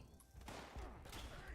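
Player gunfire in a video game, a quick run of sharp shots in close succession, fairly faint and compact, with no talk over it.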